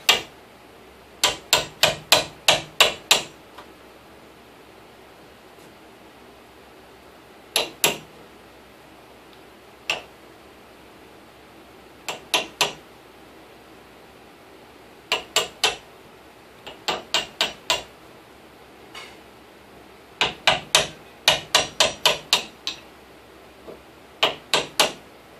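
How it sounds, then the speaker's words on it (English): A hammer drives a chisel into a composite mobile home door with sharp metallic strikes in quick bursts of four to eight blows, separated by pauses, close and loud against a quiet background. "you need a chisel and a hammer."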